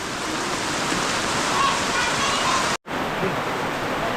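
Continuous heavy monsoon rain pours down in rural Konkan as a dense, steady hiss, broken only by a brief dropout.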